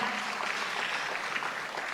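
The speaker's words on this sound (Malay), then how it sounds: "bagi tepukan untuk saudari Juwairiah" Audience applause at a national women's congress, a steady, dense wash of clapping filling the whole stretch without pause.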